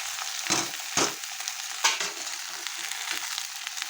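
Mixed vegetables (potato, brinjal, okra and pointed gourd) fry in a pan with a steady sizzle, broken by a few sharp spatula scrapes and knocks as they are stirred, close and fairly loud.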